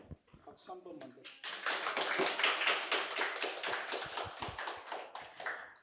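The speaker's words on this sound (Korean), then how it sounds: "박수 한 번만 더." An audience at a civil-service exam study briefing breaks into clapping after a short spoken line, the claps rising quickly into a fairly quiet, busy patter that carries on to the end.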